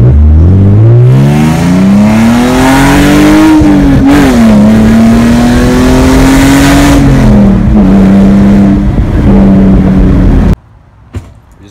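A 5-speed BMW E46 with a straight-piped exhaust from the headers revs hard, a loud, close, rising and falling engine note held for several seconds before cutting off abruptly into near silence.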